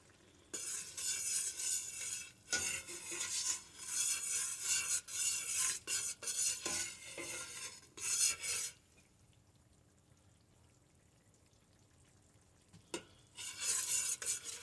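A fish and corn chowder is stirred in a pot, with bursts of close scraping and rustling against the base under a soft sizzle, then a quiet gap near the end before the stirring resumes.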